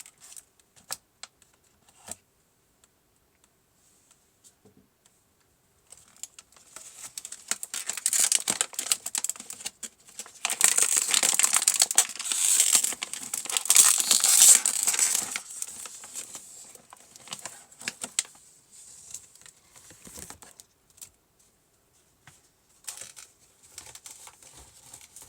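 Plastic packaging around a spool of 3D printing filament is pulled open, with bursts of close crinkling and rustling that swell to a loud, busy stretch midway before thinning to scattered crackles.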